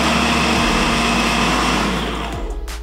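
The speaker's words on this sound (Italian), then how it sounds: "Andiamo a frullare." An electric blender whirs loudly at high speed, blending a mixture of cabbage, eggs, fresh cream and parmesan, a steady close motor drone that winds down and slows toward the end.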